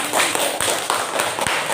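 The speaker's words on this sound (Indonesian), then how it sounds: "Tepuk tangan untuk semuanya" A class of schoolchildren in an Indonesian classroom gives a brief round of applause, a quick burst of scattered, close hand claps lasting under two seconds.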